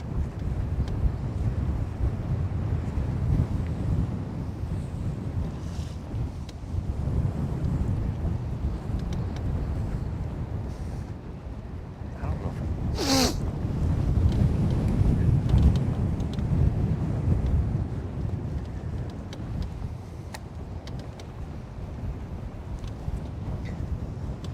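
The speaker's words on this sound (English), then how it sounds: "We are just out here in the wind." Wind gusting across a boat out on Lake Guntersville, a steady low rumble buffeting the microphone with a brief higher squeak partway through and no talk.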